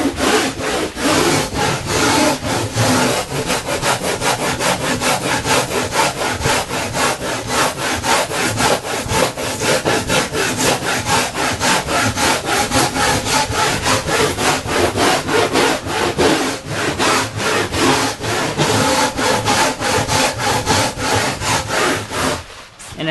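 Surform rasp shaving the foam bottom of a surfboard while shaping a concave, steady rapid rasping strokes repeating close up for a long stretch with no talk.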